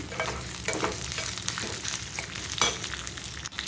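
Mustard seeds, fenugreek and spices frying in hot oil for a methi chutney, a steady dense sizzle with small crackles and a few sharper pops, close and continuous throughout.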